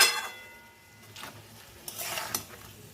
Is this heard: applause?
no